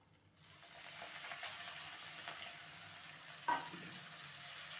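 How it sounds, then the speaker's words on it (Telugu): Gongura leaves hit hot oil in a pan and set off a steady, close sizzle that holds for several seconds, broken once by a brief clink of a utensil, with no one speaking. "కొంచెంగా ఆయిల్ వేసుకొని ఈ గోంగూరని వేసేయాలి."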